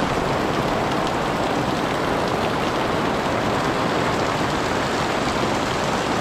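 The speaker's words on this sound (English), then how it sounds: "let's see whether this rain passes in the next hour or so" Steady, dense rain pouring down, a constant hiss of drops hitting surfaces close by, with no other sounds breaking through.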